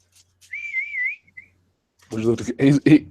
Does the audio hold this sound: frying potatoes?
no